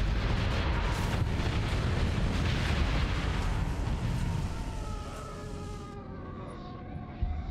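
Missiles launch and explode in the space combat game Starsector, a dense, roaring barrage that thins out toward the end, leaving fading tonal whooshes and a final sharp thud.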